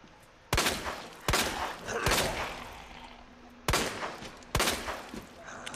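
Gunfire in the Resident Evil 2 remake, five sharp loud shots spaced unevenly over a few seconds, each with a short decaying tail over quiet game ambience.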